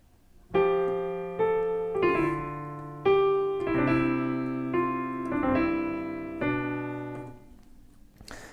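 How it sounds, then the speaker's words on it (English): A piano plays a looping chord accompaniment for a song, sustained chords struck one after another with a gentle, ringing decay, clear and alone. "I'm going to focus on the main piano part that's going to be repeated throughout the song"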